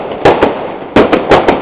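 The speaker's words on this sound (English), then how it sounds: "big bangs and all the fireworks" Fireworks and firecrackers explode on New Year's Eve in a loud, close series of sharp bangs, two quick pairs of cracks separated by a short pause.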